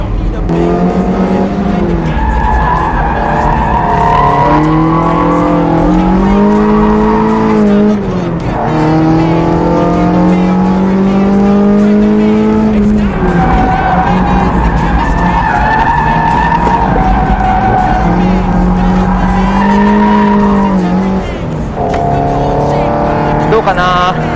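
A Mazda Roadster is pushed hard around Nikko Circuit, its tires squealing in long, rising and falling wails over a steady, loud engine drone for the whole stretch.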